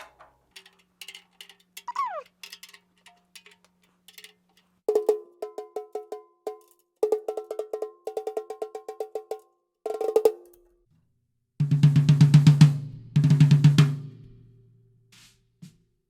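A series of high-pitched, ringing strikes on a snare drum tuned high, in quick rhythmic bursts, some clusters tight and rapid, with a lower-pitched resonant run of hits near the end.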